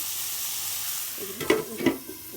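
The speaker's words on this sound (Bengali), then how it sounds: "এখানে আবার একটু জালি কুমড় ভাজি করতেছি যে বসায় দিচ্ছি জালি কুমোরটা" Ash gourd (jali kumra) frying in a pan gives a faint steady sizzle, with two brief scraping clanks of a spatula stirring near the end.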